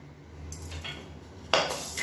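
Dry horse gram lentils are stirred and tossed in a metal kadai, giving light scraping clinks with two brief louder rattles partway through.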